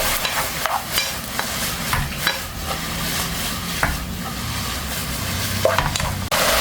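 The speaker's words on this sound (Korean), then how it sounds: "마지막으로 식초 1큰술 넣어서 섞어주면 다 된 겁니다" Bean sprouts being stirred with a spoonful of vinegar in a pan, a steady close sizzle broken by frequent quick scraping and clinking strokes of the utensil, fairly loud throughout, no voices.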